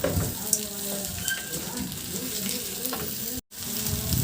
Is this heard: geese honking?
no